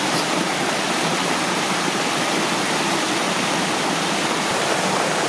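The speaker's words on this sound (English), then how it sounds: "I think there's another waterfall." A waterfall on the Luskville Falls trail in Gatineau Park, Quebec, roars nearby as a dense, constant wash of rushing water, loud and unbroken throughout with no voices.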